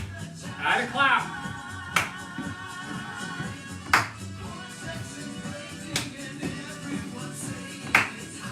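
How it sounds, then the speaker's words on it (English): Sharp hand claps land on a regular beat about every two seconds during a Latin-music senior exercise routine at 120 BPM, over background music and an instructor's voice. "Add a clap."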